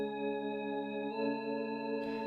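Sustained synth keys preset from the Electrax plugin, a glowing church-like tone for a drill beat, holding soft layered chords at low volume before a brief airy noise at the end, with no talk.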